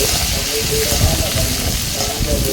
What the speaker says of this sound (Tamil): நறுக்கி வச்சுருக்க வெங்காயம் பச்சை மிளகா கருவேப்பிலை மூணையும் போட்டு நல்லா வதக்கிடலாம்